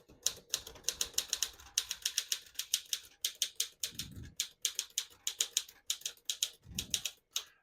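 Rapid keystrokes on a 1952 Smith-Corona Silent portable typewriter, close and crisp, clattering in quick bursts with a couple of low thuds from the carriage or space bar.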